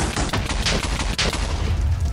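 Bed exploding in Minecraft's Nether, a loud, dense burst of crackling booms with a couple of sharper blasts, filling the whole stretch without any voices.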